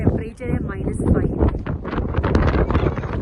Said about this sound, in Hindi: बहुत तेज हवा चल रही है, हवा यहाँ पे बहुत ज़्यादा तेज है